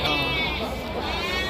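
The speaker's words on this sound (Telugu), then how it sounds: "మొత్తం బ్రీడింగ్ పర్పస్కి పెద్ద సైజు పొట్టేళ్ళు ఇవన్నీ" Large breeding rams at the Guduru livestock market give a continuous, nasal, wavering bleat up close, with voices and crowd murmur mixed in.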